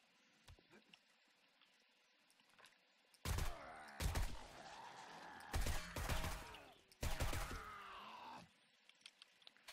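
Suppressed gunfire in the video game 7 Days to Die, four loud bursts of muffled shots in quick clusters between quieter stretches of background game ambience.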